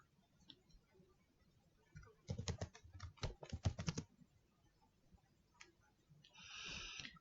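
Quick keystrokes on a computer keyboard as a message is typed, coming in scattered clusters of close, crisp clicks between quiet pauses, with a brief rustle near the end.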